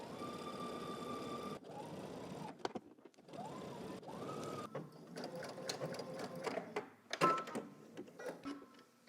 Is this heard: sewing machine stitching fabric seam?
yes